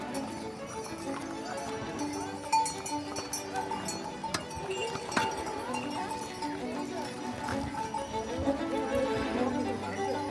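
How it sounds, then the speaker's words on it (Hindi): Horses and mules clip-clopping on a mountain trail at the Kedarnath horse stop, scattered hoof beats and faint bells mixed into a busy crowd, with people talking throughout. "गौरीकुंड से या फिर रास्ते में आप जो भी घोड़ा खच्चर वगैरह लेते हैं, वो सब आके घोड़ा पड़ाव पे यहीं पर आकर रुक जाते हैं"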